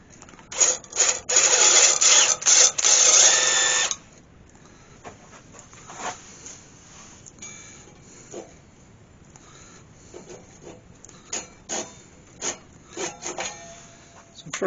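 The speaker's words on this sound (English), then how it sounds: "I'll get back to you once I've finished sanding." A wood-turned goose being sanded, with about four seconds of loud, dense abrasive rasping, then quieter, intermittent scuffing and rubbing strokes at close range, no speech.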